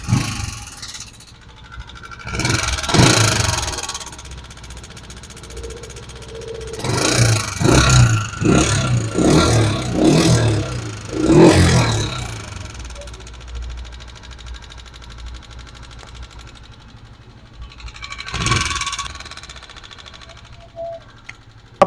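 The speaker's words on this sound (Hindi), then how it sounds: "जी तो ये आप गाड़ी की आवाज़ सुन लें पहले, इसकी किस तरह की आवाज़ें जो है ना ये दे रहे हैं" Honda CG 125 motorcycle engine with worn cam gear, idling and revving in bursts, loud and close, with someone talking between the revs.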